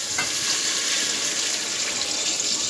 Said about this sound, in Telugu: సరే మనం వాటర్ పోసుకోవచ్చు ఇందులో